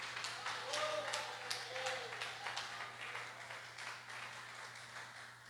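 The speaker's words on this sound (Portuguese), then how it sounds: "pode aplaudir a Jesus também" Church congregation applauding during a sermon, a soft, steady patter of many hands clapping at a distance, with a voice and a low hum underneath.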